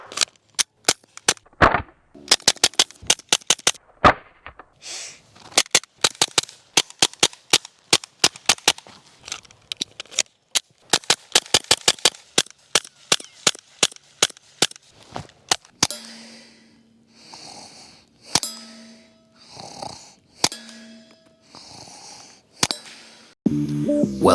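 Gunshots from a Taurus pistol at an indoor shooting range come as many sharp, loud, close cracks. They fire in quick strings and in slower singles, and ringing tones and faint background noise carry on between the later shots.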